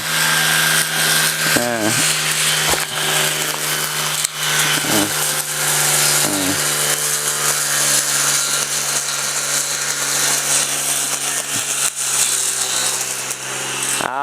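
A battery-powered grass trimmer whirs continuously at high speed, loud and close, with a few brief changes in pitch as it cuts.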